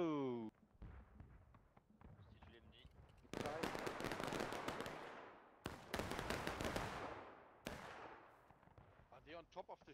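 A distant musket volley in War of Rights, an American Civil War game set at Antietam: a broad crackling crash of many rifles rolls out, followed by further ragged bursts and scattered shots, with voices shouting orders around them.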